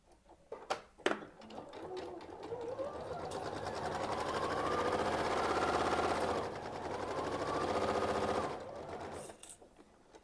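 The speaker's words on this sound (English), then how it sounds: "I'm going to go ahead and take these to the machine and get all of these sewn." A domestic sewing machine stitches quilt pieces in two steady runs of rapid needle hammering, close and loud, with a brief pause between, after a few light handling clicks.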